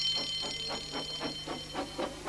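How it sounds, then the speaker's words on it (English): An alarm rings in a Thomas and Friends episode: a fairly quiet, steady ringing that pulses rapidly and evenly throughout, heard alone with no talk. "Soon came the alarm."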